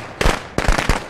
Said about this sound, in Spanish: Esos petardos ahí.